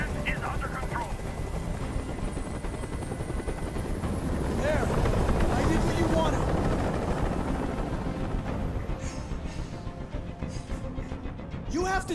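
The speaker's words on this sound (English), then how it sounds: "I can't stand that noise anymore. Tell that helicopter to get out of here." A helicopter hovers nearby in Detroit: Become Human, a constant chopping rotor drone that swells toward the middle; voices speak over it and brief sharp sounds break in near the end.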